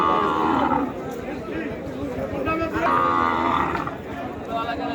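Cattle lowing at a busy livestock market ahead of Qurbani, several deep moos repeating over a steady din of crowd noise and distant chatter.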